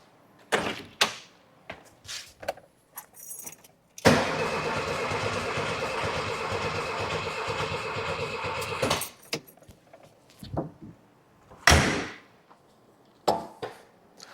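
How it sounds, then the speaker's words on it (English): A 1979 VW Super Beetle engine, with one spark plug pulled after more than ten years sitting, cranks over steadily for about five seconds, loud and close, with door clunks and handling knocks before and after. "I pulled one of the spark plugs and I'm going to crank it just"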